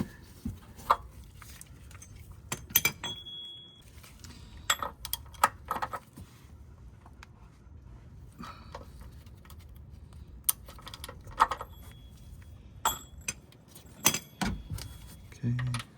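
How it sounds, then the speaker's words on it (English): An oil filter wrench working on a Lexus ES 350 V6 oil filter, with scattered metallic clinks, rattles and scrapes at irregular intervals, close by and moderately loud. "we need to get the oil filter wrench. We're gonna tighten this up just a little bit"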